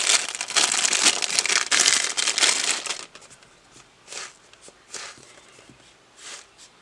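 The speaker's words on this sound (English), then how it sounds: "You can't hear it because of the crinkling in the bag." A plastic bag crinkles as a squishy toy is squeezed inside it, dense crackling rustles for about three seconds, then a few separate softer crinkles spaced out afterward, close and fairly quiet.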